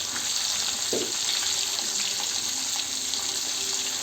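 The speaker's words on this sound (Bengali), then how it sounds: "তেল পুরোপুরি গরম হলে এবার একে একে সব চিকেন দিয়ে দিব।" Chicken pieces fry in hot oil in a small kadai for a Bengali chicken kosha, giving a steady, close sizzling hiss with no talk.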